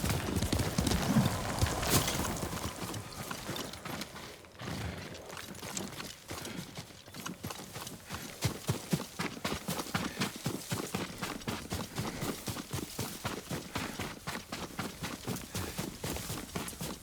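A horse's hooves clip-clop steadily in the game Ghost of Tsushima, a regular walking rhythm that grows clearer and more evenly paced after a brief muffled start, with faint ambient sound and a short whinny-like note early on.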